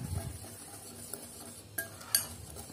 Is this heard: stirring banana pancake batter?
yes